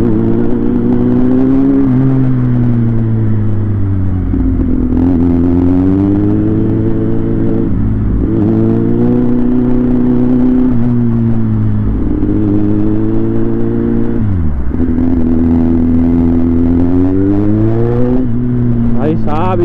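A Kawasaki Z800 or Benelli 600 motorcycle on a Mumbai street revs steadily, its engine note rising and falling in smooth throttle sweeps through the whole stretch, loud and close, with a dip and recovery partway.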